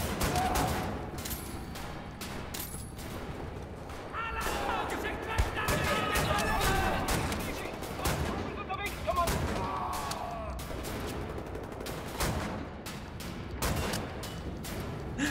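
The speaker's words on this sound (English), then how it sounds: "It makes it all the shotgun shells bounce around." Shotgun blasts in Wolfenstein: The New Order, with a mod that makes the spent shells bounce around, ring out repeatedly in close quarters over a steady din of game noise and scattered clatter.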